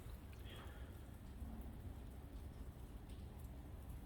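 Steady rain falls continuously with a low rumbling wash underneath, even and moderately loud throughout.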